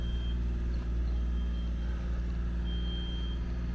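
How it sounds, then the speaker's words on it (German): A small crane truck drives past on a street in Maspalomas, Gran Canaria, its high reversing beeps sounding in short pulses over a steady, loud engine rumble. "hier fährt auch so ein kleiner Kranwagen"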